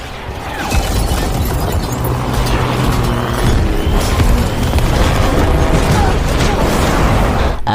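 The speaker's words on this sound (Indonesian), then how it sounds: "si robot penghancur mulai menyerang menggunakan bom granat" Grenade blasts from a destroyer robot attacking special forces soldiers in an American action film, heard as a continuous loud rumbling barrage of booms and debris with dense low-end roar throughout.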